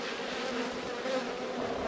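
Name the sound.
honey bees buzzing in an opened hive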